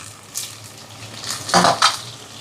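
Shallots and onions frying in a pan for a prawn curry, with a steady soft sizzle and a couple of short louder stirring scrapes near the end, close by and alone.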